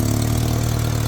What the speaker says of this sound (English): Definitely has an exhaust leak.